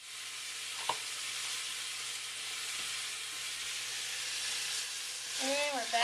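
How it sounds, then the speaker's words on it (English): Chopped sausage simmers in a pan as a soft, steady sizzle and hiss that holds evenly throughout, with a faint tap near the start and a brief squeak near the end. "And just let it simmer away."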